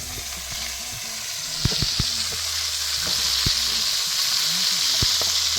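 Cabbage frying with shrimp in a hot pan gives a close, continuous sizzle, joined by a few sharp knocks and scrapes from stirring, with no talking.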